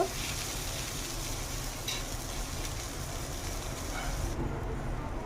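A chocolate dosa sizzles and fries on a hot pan as it is flipped, giving a steady, close crackling hiss with a light scrape near the end.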